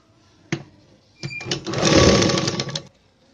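A sewing machine runs a short seam along a folded blouse edge: a sharp click, then a steady mechanical whir that swells and stops, close and alone.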